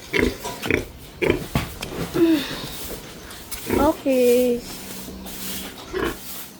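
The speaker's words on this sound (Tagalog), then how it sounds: "nandito na po kami sa malalaking baboy" Large farm pigs grunt and squeal in a pen, short rough bursts recurring through the clip alongside a few brief spoken words nearby.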